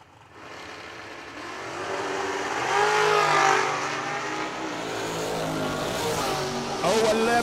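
Drag racing cars launching down the strip, a loud engine roar that swells and holds, with an announcer talking over it.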